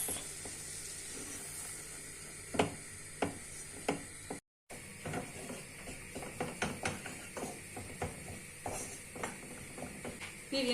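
Flour dry-roasting in a pan, a quiet, steady scrape-and-click of stirring with a soft hiss underneath, repeating irregularly throughout with one brief gap.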